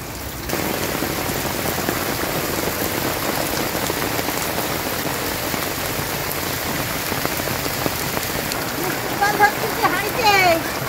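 Rain pours steadily outside, a dense close hiss of drops on surfaces that lasts the whole stretch, with a few faint higher sounds near the end.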